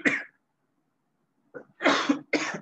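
A short cough, a pause of silence, then a burst of two or three more coughs, close and fairly loud.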